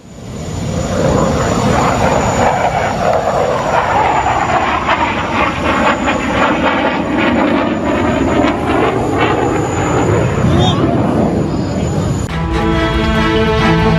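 Indian Air Force Tejas fighter jet at the Dubai Air Show, a loud, sustained roaring jet engine rumble that holds steady for many seconds before abruptly dropping off near the end.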